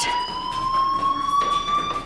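A fire alarm rings in the video game Life is Strange, a continuous, loud, shrill electronic tone holding steady with no pauses and no voices.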